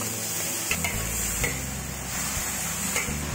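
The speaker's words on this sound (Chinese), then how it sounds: "把它翻炒均匀" Beef and green beans are stir-fried in a wok with chili, salt and soy sauce, a steady sizzle broken by scraping and clanking of the spatula against the metal at irregular intervals, no voices.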